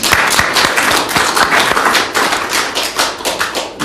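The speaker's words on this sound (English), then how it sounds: "I think we can give him some applause for that." Applause from a lecture-hall audience at an academic conference, a dense, steady patter of many hands clapping, close and loud throughout with no talk over it.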